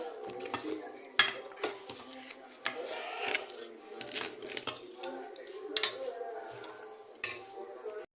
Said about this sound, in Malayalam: എന്നിട്ട് നമുക്കിതുപോലെ ഒന്ന് മിക്സ് ചെയ്ത് എടുക്കാം